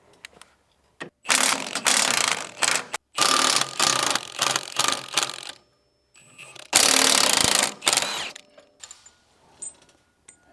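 A socket wrench ratchets out the final drive bolts on a Tilmor 520 tractor during a two-speed seal change, with several bursts of rapid clicking separated by short pauses, close and loud.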